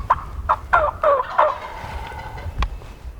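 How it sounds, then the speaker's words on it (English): A wild hardwoods turkey gobbler sounds off in a series of rapid, warbling gobbles at moderate distance, followed by a sharp crack near the end, outdoors on a windy day. "Is there anything better than a hardwoods gobbler like that?"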